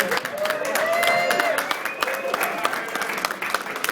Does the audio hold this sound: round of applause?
yes